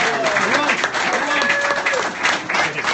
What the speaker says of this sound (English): Everybody give Ethan a big round of applause.